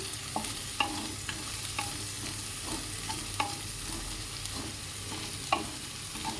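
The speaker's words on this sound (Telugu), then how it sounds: "వేసి ఒకసారి కలుపుకుందాము" A spatula scrapes and taps around a pan in a loose rhythm over a soft, steady sizzle of cauliflower paneer fried rice frying, close by with no talking.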